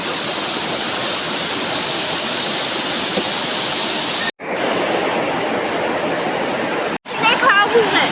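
Chirekhan waterfall at Natal village roars loud and close in a dense, unbroken rush of falling water, cut by two brief dropouts, with faint voices near the end.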